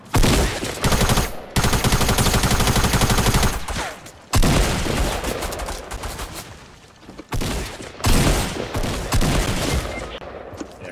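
Dense, loud bursts of automatic gunfire and rapid shots from the Fortnite video game, nearly continuous and broken by a few brief gaps.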